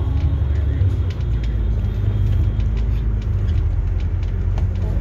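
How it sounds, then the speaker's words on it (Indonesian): A route 68 bus pulls away from a stop after boarding passengers on a Yuen Long street, its engine rumbling steadily and loud throughout with continuous low drone and faint traffic around it. "Bus mulai jalan lagi setelah menaikkan penumpang, jalan ke arah Yunlong Yuhu."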